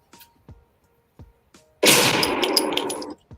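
A gunshot sound effect, one loud sudden burst with a broad noisy tail lasting about a second, preceded by a few faint short clicks and taps.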